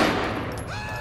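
A sharp, loud burst of gunfire in the GTA IV video game, an immediate blast with a ringing tail decaying over about a second.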